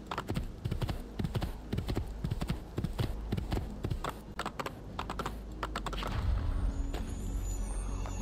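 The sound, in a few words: horse hooves clip-clopping in video game Assassin's Creed 2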